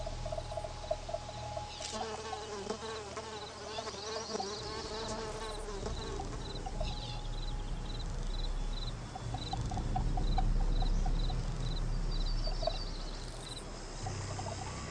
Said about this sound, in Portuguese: Esse zumbido que as moscas fazem é geralmente resultado do movimento das asas.